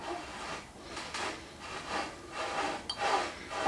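Soft, faint rubbing strokes as a fingertip wipes grease around the inside of a trailer hub seal before fitting it over the axle, a few slow repeated swipes with no talk.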